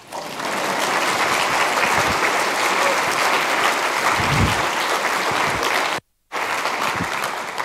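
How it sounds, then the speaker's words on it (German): Applause from the audience at the opening of the FOSSGIS 2024 conference, a sustained, fairly loud wash of many hands clapping with a brief break near the end, a faint murmur of voices underneath. "An dieser Stelle steht jetzt hier Klatschen"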